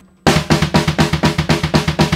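Loud, fast blast-beat drumming kicks in after a brief quiet start, with rapid double bass drum strokes driving steadily under regular snare hits.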